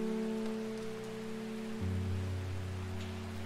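Gentle, steady rain patters in a calm ambient scene from the video game Strange Horticulture. A low sustained musical drone plays underneath, and the sound stays soft and even throughout.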